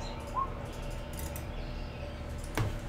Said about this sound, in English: Bird sounds on the screen too.